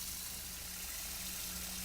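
Water running into a sink from a tap, a steady, continuous rushing gush with a faint low hum underneath, no voices.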